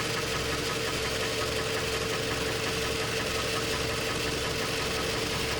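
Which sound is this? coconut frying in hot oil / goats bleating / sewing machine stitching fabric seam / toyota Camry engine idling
toyota Camry engine idling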